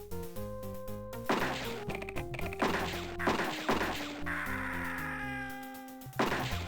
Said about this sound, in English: so that's the explosions